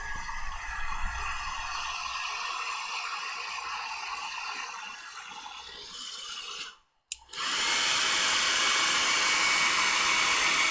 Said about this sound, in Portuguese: porque se você colocar o secador quente, ele vai começar a rachar.